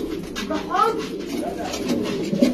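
Pigeons coo softly in a few short, throaty calls at close range, mixed with someone talking over them.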